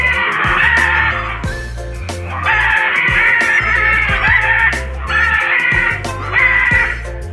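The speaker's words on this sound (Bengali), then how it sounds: "কতগুলো ম্যাকাও দেখো এখানে, চারিদিকে ডাকছে" Red and blue macaws at Alipore zoo give loud, harsh, screeching calls in repeated bursts, close and raucous, over a steady musical backing.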